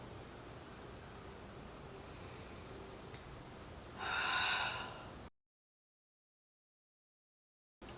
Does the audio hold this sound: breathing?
yes